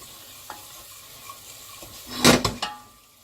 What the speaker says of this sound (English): onion is all nice and translucent, we add some garlic